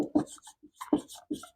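Chalk or marker scratches out quick, short strokes on a board during a Class 11 physics lesson, with several close, distinct scrapes in an uneven rhythm.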